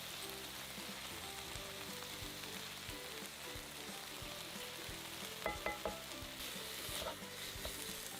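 Vegetables sauté in a cast iron pan with a steady, close sizzle and crackle, a low hum beneath and a few sharp utensil clinks near the end.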